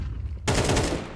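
Counter-Strike 2 gunfire: after a brief quieter lead-in, a sharp, loud shot cracks out and a rapid burst follows, close and dense with no talking over it.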